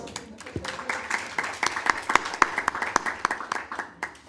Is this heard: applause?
yes